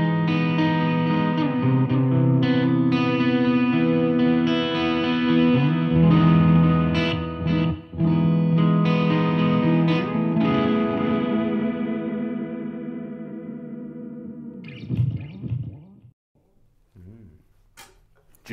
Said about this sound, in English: So going for an analog delay, I think my choices were tape delays without tape noise on it.